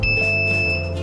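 A multimeter in continuity mode gives a steady high-pitched beep while its probes test an alternator rectifier diode, one loud sustained tone held close for about a second.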